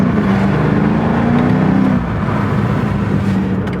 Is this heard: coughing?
no